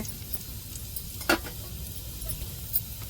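Spices being tempered in oil for a Tamil fish curry crackle in a pan with a soft, quiet sizzle, broken by a sharp clink and a few light stirring taps.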